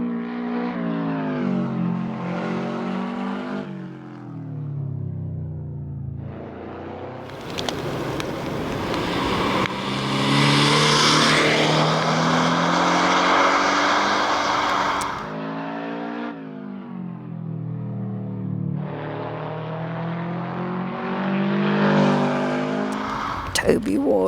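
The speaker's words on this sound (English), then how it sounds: "the GT86 coming in quite tight on the end marker, smoothly through there and up the hill" A Toyota GT86 race car driven by Toby Ward powers up a hill after a tight turn at an end marker, its engine rising loud and sustained, with a commentator talking over it for much of the run.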